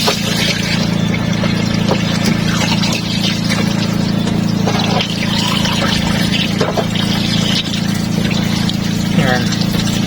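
Coolant water drains out the bottom of a Nissan Sentra radiator during a flush, a steady close splashing rush with a low hum running under it for the whole stretch.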